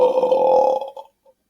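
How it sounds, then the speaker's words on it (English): A loud, drawn-out belch while eating sandwiches and boiled eggs, close and forceful for about a second, then trailing off into a short gurgle and a faint final hiccup-like blip. "I feel like I'm gonna have a weird stuck burp here."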